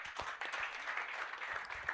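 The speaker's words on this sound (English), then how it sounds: "Kindly give him a big round of applause" An audience at a hospital competition award ceremony applauds, a steady patter of clapping that runs for the whole short stretch at moderate volume.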